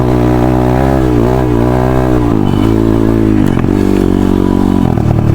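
An enduro dirt bike with a new engine labours loud and close up a slick, muddy slope, its engine droning steadily with shifting pitch and brief dips as the throttle changes.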